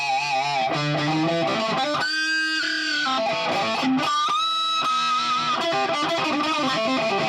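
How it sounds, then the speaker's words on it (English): An electric guitar through a Boss ME-90's turbo distortion effect plays chords and single notes with heavy, fuzzy distortion, loud and sustained with no talking. "I think it was the turbo distortion"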